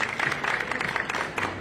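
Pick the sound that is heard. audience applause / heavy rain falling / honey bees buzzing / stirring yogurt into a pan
audience applause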